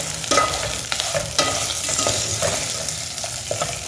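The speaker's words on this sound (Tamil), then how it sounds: "கொஞ்சம் எண்ணெயில் நல்லா பிடிச்சிட்டேன்." Chicken fries in oil for village-style pulao, a busy sizzle broken by repeated scraping stirs of a spoon against the pan, loud and close.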